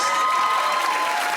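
A studio audience on a comedy panel show cheers and applauds in one brief, loud, dense burst of crowd noise with no talk over it.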